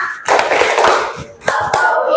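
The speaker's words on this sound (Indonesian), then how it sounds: "Tepuk 5 Asmaul Husna." Hand claps in a children's rhythmic counting-and-clapping game for the Asmaul Husna, sharp hand slaps falling in a steady pattern from close by, with voices heard faintly among them.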